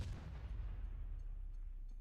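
Deep, rumbling video game explosions roll on continuously, like distant booms blending into a steady low roar with no voices.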